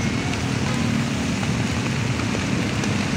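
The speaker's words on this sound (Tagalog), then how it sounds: "ulan dito guys sa amin." Heavy rain pours down steadily at close range, a dense, unbroken hiss and roar with no pauses and no voices.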